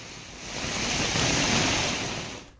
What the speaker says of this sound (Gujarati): આ વિસ્તારોમાં ધોધમાર વરસાદ જોવા મળી રહ્યો છે